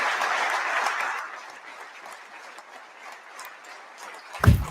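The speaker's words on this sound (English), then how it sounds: "Would you please give them a round of applause for all of their efforts" Audience applause for healthcare professionals at a state address. It starts as a steady wash of clapping, then fades to a faint patter, and ends with a brief low thump.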